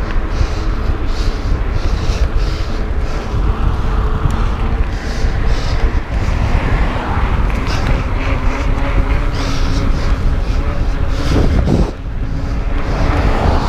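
Wind buffets a GoPro Hero 4 on a gimbal fitted with a fur wind filter, a constant loud rushing roar with slight gusty swells throughout.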